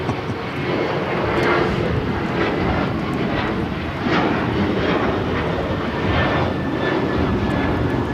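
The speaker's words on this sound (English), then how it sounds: "This is American Airlines 1292 taking off to Nashville, Tennessee on the 737-800." An American Airlines Boeing 737-800 takes off from LAX, its jet engines giving a loud, steady broadband roar that holds close and strong throughout, with no voices.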